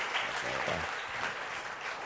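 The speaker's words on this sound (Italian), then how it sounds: "Parte, parte l'applauso." Audience applause at an Italian talk show taping, a steady dense wash of clapping throughout with a brief voice cutting through early on.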